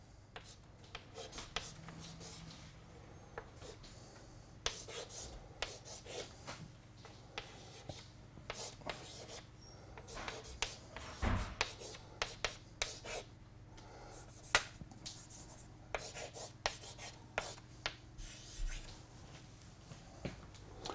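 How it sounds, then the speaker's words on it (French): Chalk or marker on a classroom board writes out a result in a run of short scratchy strokes and taps, irregular and close, with brief pauses between bursts and no talk. "Donc je vais écrire le résultat."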